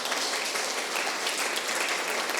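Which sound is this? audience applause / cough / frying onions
audience applause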